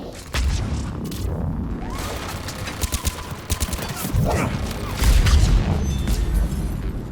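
Turret gunfire and explosions in the video game Mass Effect 3, with rapid bursts of shots and heavy booms and thuds rolling through, dense and fairly loud, with no talk.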